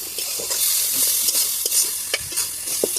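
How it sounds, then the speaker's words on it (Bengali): A spoon stirs mustard and chili masala in a hot pan, making a soft continuous sizzle broken by sharp scraping knocks of the spatula against the metal, close and without any voices. "এবার একটু ভালো করে একটু কষিয়ে নেবো।"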